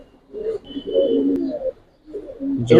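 Soft, low coos of Beji pigeons sound close by in a few rounded phrases separated by short pauses.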